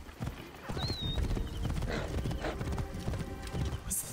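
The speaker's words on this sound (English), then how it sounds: "Or ride your horse, rather." Horse hooves clip-clop steadily in Assassin's Creed Origins as the rider travels, a brisk rhythmic trot with a brief whinny, up close over game ambience and faint background chatter.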